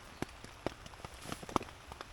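Rain falls on a campsite, heavy drops striking a surface in scattered, irregular taps over a soft constant patter, close and fairly quiet.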